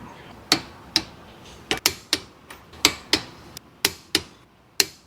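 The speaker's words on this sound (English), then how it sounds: "the wheel is gonna get torqued to 100 foot-pounds of torque" Lug nuts on a 2013 Ford Explorer's wheel being torqued to 100 foot-pounds: a close series of sharp metallic clicks, roughly a dozen in irregular rhythm, with nothing else in between.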